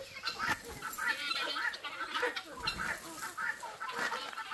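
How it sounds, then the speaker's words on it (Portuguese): A flock of chickens, including hens and capons, clucks busily in a rural farmyard at feeding time, with many overlapping soft clucks and squawks at moderate distance. "É muita galinha."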